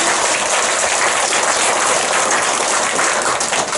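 A congregation bursts into loud, sustained applause at a church revival meeting at a Baptist church in Jinju, a dense wash of clapping filling the room evenly from start to finish.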